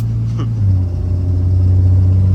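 A 4th-generation Cummins diesel pickup with a G56 manual transmission drives along, its engine a loud, steady low rumble with a brief rising whine early on.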